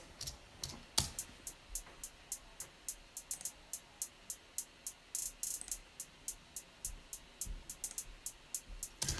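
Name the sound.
808 hi-hats alternating with and without compression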